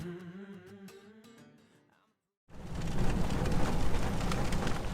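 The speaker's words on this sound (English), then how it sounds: "Turns out the rain clouds we passed through earlier decided to catch up to us, though this time with a much louder presence." Heavy rain and rumbling thunder at a Rocky Mountains campsite surge in loudly after a brief quiet, a dense continuous roar that follows fading music.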